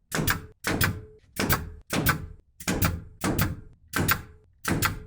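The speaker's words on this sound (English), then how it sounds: "I want to feel the power of the nail gun." A pneumatic nail gun fires eight sharp, evenly spaced shots into a tongue and groove ceiling in a van conversion, each a loud close thunk with a short ringing tail, heard alone with no talk.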